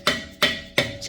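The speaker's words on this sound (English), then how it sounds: "And you want to hammer that on there" A hammer strikes a 22 mm socket onto a snapped exhaust manifold bolt on a 2017 Ford F-150 EcoBoost, giving three sharp, ringing metallic blows at an even pace. The blows are close and loud, with no talking.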